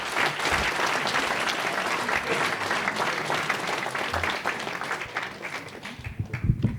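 Dense applause from an audience at a municipal New Year's ceremony, steady and fairly loud before thinning out into a few last claps at the end.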